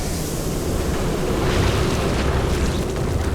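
Toxic gas hissing and roaring over infested Terrans in StarCraft 2, a dense continuous rushing wash with no break, loud throughout.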